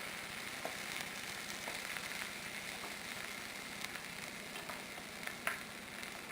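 Egg-in-bread frying in a pan on low heat gives a steady, soft sizzle and crackle throughout, with occasional faint pops and ticks and no talking.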